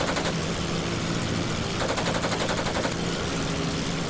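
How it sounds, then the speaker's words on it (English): An aircraft machine gun in the World War I flight game Wings Over Flanders Fields fires controlled bursts, loud rapid rattling that changes in texture between bursts over a constant droning engine. "The machine gun needs to clear the propeller. Otto is shooting controlled bursts,"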